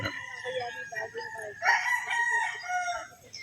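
A Boston Gray gamefowl stag on a gamefarm crows once in a drawn-out call, loud and close, with bird sounds and faint background noise around it.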